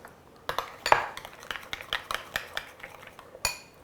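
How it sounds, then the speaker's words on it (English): A spoon stirs salad dressing in a bowl, giving a run of light clinks and scrapes against the dish, irregular and fairly close, with no talk. "I got my little whisk out to whisk it, but the spoon is doing just beautiful with this dressing"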